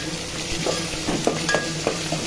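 Ginger garlic paste with mint, coriander and curry leaves frying for bagara rice, a steady sizzle with a few soft scraping stirs, close and moderately loud, no talking.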